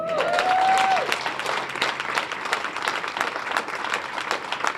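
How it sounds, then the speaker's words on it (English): A crowd claps steadily at an outdoor groundbreaking ceremony for new mixed-income housing, dense applause holding at an even level for several seconds after a brief voice at the start. "Let's applaud that."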